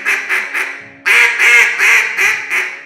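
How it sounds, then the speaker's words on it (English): Duck calls blown loudly by hunters in Mississippi, a rapid series of nasal quacking blasts in two runs, close and piercing, with no talk. "You can hear the guys blow their duck calls loud"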